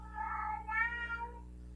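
A pet cat named Sylvester meows indoors, a drawn-out, wavering two-part cry close by, somewhat human-sounding, with no talk over it.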